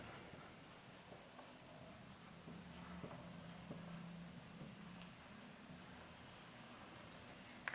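A pen scratches across paper in quiet, intermittent strokes while accounting working notes are written, faint and close with small ticks between the bursts of writing.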